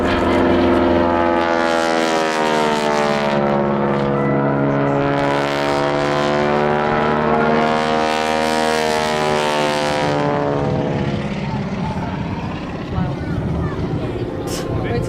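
A propeller plane performs stall manoeuvres at the 2017 Southport Air Show. Its loud droning engine shifts in pitch as it sweeps past, then fades toward the end under an announcer's voice.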